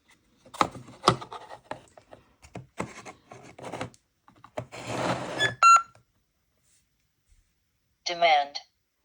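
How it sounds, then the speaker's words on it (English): Soft speech and rustling handling noises, then a short electronic beep from a SpiritChat device sounds near the end after a pause. "A little beep just to signify that that's"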